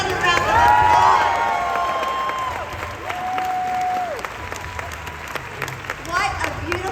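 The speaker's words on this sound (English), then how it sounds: "let's give her another round of applause." A crowd claps and cheers steadily, with sustained whoops and shouts rising over the applause.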